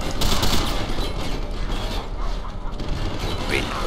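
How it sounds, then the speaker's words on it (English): Rapid bursts of gunfire from a first-person shooter gun battle crackle continuously and fairly loud throughout, with mechanical clatter mixed in and a player's voice talking over it. "And I'm shooting way too high."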